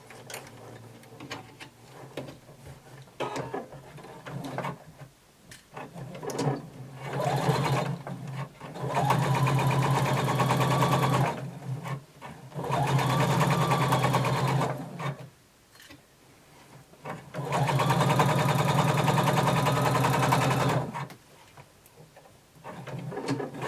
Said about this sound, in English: And now we're going to sew from the bottom